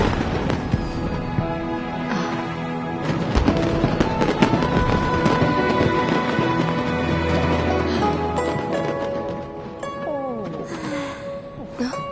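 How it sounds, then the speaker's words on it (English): Video game fireworks crackle and pop continuously in dense bursts with occasional deeper booms, while voices and music play underneath. "Way over there, a firework that looks just like a pig!"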